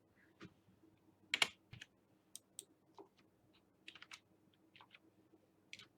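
Code being entered on a computer keyboard, with sparse, irregular clicks of single keys and short clusters of taps, faint and close in a quiet room, with no talking.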